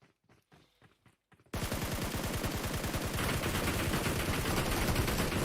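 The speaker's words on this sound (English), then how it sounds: "they're under fire as well. Now they're actually returning some fire" Sustained automatic gunfire in an esports scrim match, a rapid steady burst of shots that starts abruptly after a few faint clicks and keeps hammering loud and close to the end.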